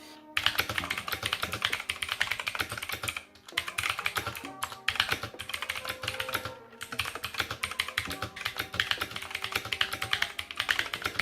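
Fast, steady typing on a new computer keyboard fills the clip with close, crisp key clacks, pausing briefly a few times before resuming, with no voices.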